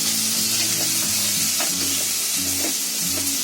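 Onion, green chilies and curry leaves fry in a pan with a loud, constant sizzle, stirred in repeated scraping strokes. A low tonal hum comes and goes underneath, and there are no voices.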